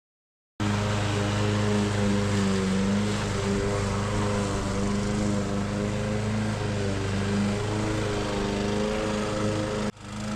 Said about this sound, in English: We're going to run a mower over it now